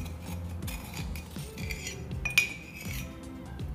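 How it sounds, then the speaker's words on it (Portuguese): A mixture of Ninho powdered milk and sugar being beaten until creamy, a utensil scraping and clinking steadily against a bowl in quick repeated strokes at close range. "com uma misturinha de leite ninho com açúcar. E a gente bate até que fique bem cremoso."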